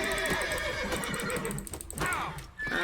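Horses in The Witcher 3 whinny loudly and repeatedly, their shrill neighs layered over hoof clatter and a busy game soundscape, with little talk.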